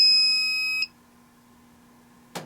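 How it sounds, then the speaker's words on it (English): A handheld circuit breaker finder gives one long, steady electronic beep at fairly high volume, then falls quiet except for a low hum before a brief click or tap at the end. "it's going to beep maybe once or twice the first time"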